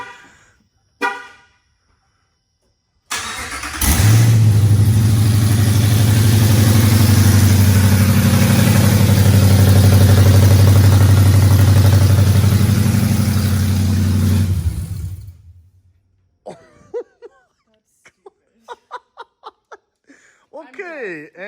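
A loud Ram pickup truck engine fires up and roars steadily for about eleven seconds at close range before cutting off, followed by people chuckling and talking.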